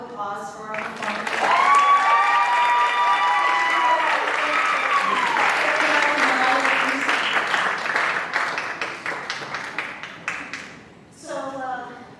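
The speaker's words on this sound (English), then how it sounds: "One more round of applause for our performance." An audience applauds after a live Latina music performance at a panel event, sustained clapping with a singer's tonal voice or music ringing over it before the applause thins out near the end.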